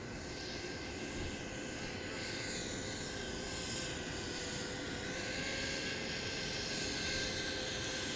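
Quadcopter with Racerstar SPROG-X 2205 motors on a 1500 mAh battery in flight, a steady high-pitched motor whine with a sustained tonal hum that holds fairly even, continuous throughout.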